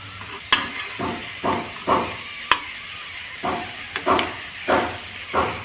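Yam slices fry in a pan, with bursts of sizzle rising and falling about every half second as pieces are turned, a few sharp clicks of a utensil, and a thin steady whine behind.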